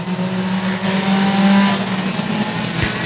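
Combined 4s race cars at Sauble Speedway drone past with a steady engine hum that swells and eases off, close and fairly loud with no talk.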